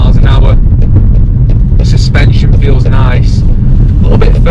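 Interior of a 2020 Mercedes-Benz CLA 45s cruising at about 30 mph, a loud steady rumble of engine and road noise with wind buffeting the microphone, and a person talking over it throughout.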